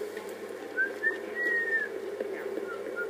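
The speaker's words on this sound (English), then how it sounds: "That whistle sounded so real." A faint whistle sounds in the video game Destiny, a short rising-then-falling tone over a steady low ambient hum, with no talk.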